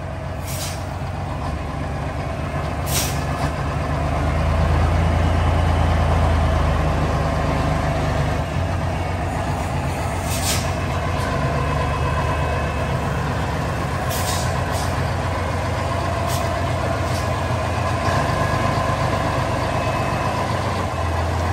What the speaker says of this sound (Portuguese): Então o motor de chibata, viu?